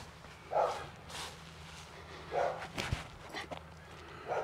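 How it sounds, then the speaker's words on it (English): A dog barks a few times at a distance in an outdoor park during a disc golf round, faint and spaced out, with footsteps and light background noise. "You heard the dog, it's telling you don't do it."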